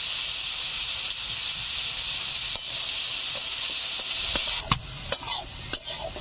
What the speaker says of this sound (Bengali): আলুগুলো ভেজে নিয়েছি, তুলে নিচ্ছি।